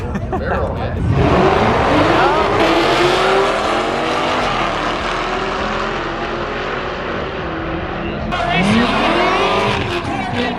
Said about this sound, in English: ZL1 versus a Hellcat.